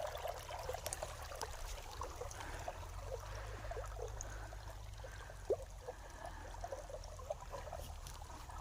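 Irrigation water mixed with jivamrut flows along a channel in a gram chickpea field, a faint, soft trickle and gurgle with scattered small splashes over a low steady background hum.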